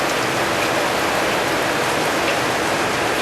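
Steady heavy rain falls on and around a house as a dense, even hiss that fills the whole moment without a break.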